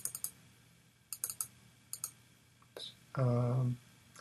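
Mouse clicks on a computer running Stata statistical software come as sharp, separate ticks in small clusters with pauses between them, followed by a brief louder whoosh near the end.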